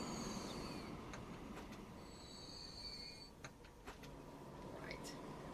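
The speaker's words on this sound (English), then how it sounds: "There's the other train." A train in Transport Fever 2 rumbles along with repeated high metallic wheel squeals and clicks over the rails, steady and moderately loud, with faint talk underneath.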